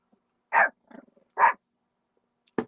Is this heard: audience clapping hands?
no